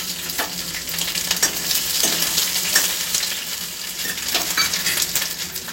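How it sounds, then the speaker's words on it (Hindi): Curry leaves hit hot cooking oil in a pan, giving a loud, steady crackling sizzle with sharp spits and pops throughout, no voices. "अभी करी पत्ता डाल रहा हूँ।"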